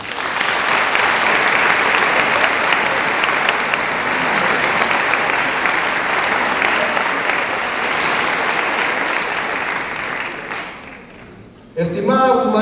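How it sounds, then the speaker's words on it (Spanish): Sustained, loud audience applause during a speech by a municipal mayor, holding steady for about ten seconds before fading away, followed by a brief burst of a voice at the very end. "Yo quiero pedirles que le brindemos un fuerte aplauso al Ser Supremo"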